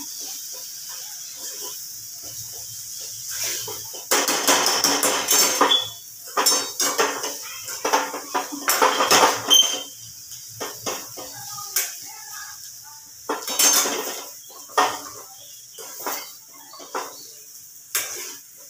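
Bitter gourd with coriander and crushed peanuts being stirred and roasted in a pan, a spoon scraping and clinking against metal in irregular bursts, with a soft sizzle between the strokes.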